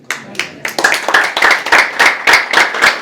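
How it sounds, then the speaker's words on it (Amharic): Audience clapping in rhythmic unison at a Monday evening program in a hotel hall, loud sharp claps that start scattered and settle into a steady, close beat of about three per second. "እሱን ጭብጨባ ከቀጠላችሁ ታሼ ይመጣል።"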